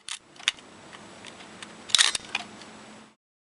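An Olympus OM-1 film camera's shutter is test-released, with a sharp mechanical click and slap of the mirror and shutter, then a few smaller clicks, close and crisp in a quiet room.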